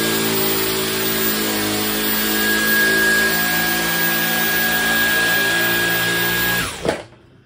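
A Dyson V11 Absolute cordless vacuum with its main brush attachment runs loud and close, holding a steady high-pitched motor whine for several seconds before abruptly cutting off near the end.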